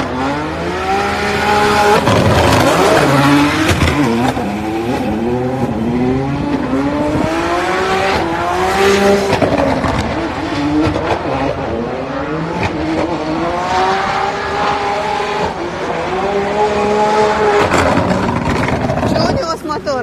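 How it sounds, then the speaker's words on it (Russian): Turbocharged race car on a circuit during an RDS GP drift event, loud continuous engine roar rising and falling through revs with crackling anti-lag pops, people talking over it throughout. "Антилак. Специальное устройство, которое поддерживает давление в турбине после того, как отпустил газ."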